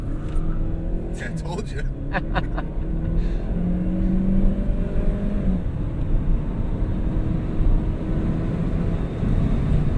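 A 2006 Saab 9-3 Arc with an automatic transmission accelerates, its engine droning and rising in pitch through the gears from inside the cabin, with a person speaking briefly over it.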